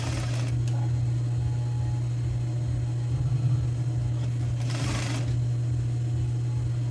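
A sewing machine topstitches over bias binding on a woman's blouse, running as a steady low motor hum with rapid needle clatter throughout, plus brief handling rustles near the start and around the five-second mark.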